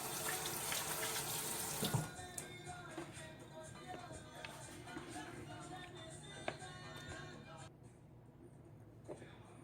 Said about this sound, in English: Guys, I did wash my hands. Washing them again.